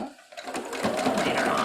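A sewing machine back tacks across a seam in heavy fabric on a rice-filled pad, its motor starting up and settling into a steady, close, continuous whir.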